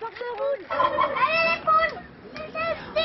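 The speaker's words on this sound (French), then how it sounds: "ils sont en train d'essayer de donner à picorer aux poules" Hens clucking and squawking close by in irregular bursts, with voices mixed in among the calls.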